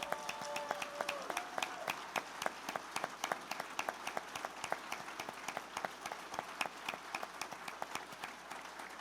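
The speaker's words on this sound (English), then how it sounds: "Please join us in a round of applause for Michael Galiazzo." Audience at a Maryland manufacturing celebration breaks into steady applause, a loose, sustained patter of many hands clapping at moderate distance with occasional sharper claps, continuing throughout without speech.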